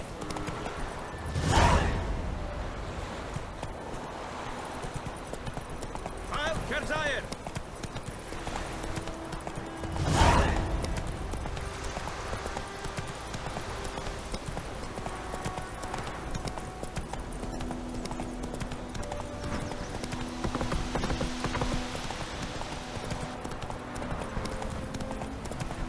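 Hooves of the horse Roach clip-clop at a gallop in The Witcher 3, steady and loud throughout, with whooshing gusts, brief voices and a faint whinny mixed in.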